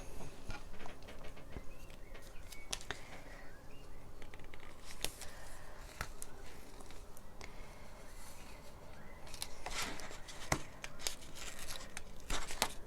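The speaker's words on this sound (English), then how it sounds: "So tear and tape again on this side." Tape is torn and pressed onto a cardboard box during a bag-in-a-box craft, giving quiet rips, crinkles and scattered sharp taps at close range with no talking.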